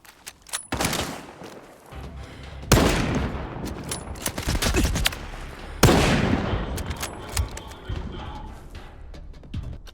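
Loud bursts of G36 rifle fire in the video game Stalker 2 crack out in rapid volleys, with heavy onsets near 0.7, 2.7 and 5.8 seconds, each trailing into echoing sustained shooting.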